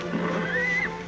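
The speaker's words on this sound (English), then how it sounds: "It's Billy the Kid's horse." A horse gives a single rising, drawn-out neigh that stands out clearly over a murky background hum in an old Western outdoor scene.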